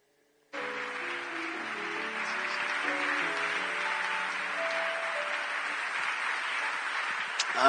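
A church congregation claps and cheers loudly at a service as an evangelist is welcomed, a dense continuous roar of applause over sustained keyboard or organ tones, starting abruptly and swelling toward the end.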